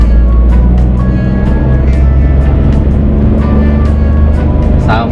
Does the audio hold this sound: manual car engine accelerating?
yes